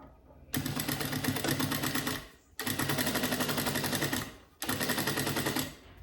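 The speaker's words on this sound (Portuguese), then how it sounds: "Você vai costurar no começo com retrocesso." A sewing machine stitching a small fabric jewellery pouch, running in three rapid rattling bursts with brief pauses between them, loud and close, as backstitching is done at the start of the seam.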